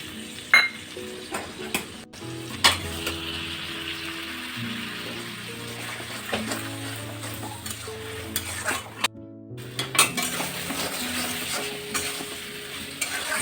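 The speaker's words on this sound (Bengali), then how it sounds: "আমি এইভাবে আস্তে আস্তে নেড়ে নেড়ে আমি কচুরলতিটাকে ভালো করে কষিয়ে নেব।" Taro stolons with poppy seed paste and a little water, sautéed and stirred in a pan: a steady low sizzle under repeated knocks and scrapes of a spatula, close by, with a brief gap near the end and no talking.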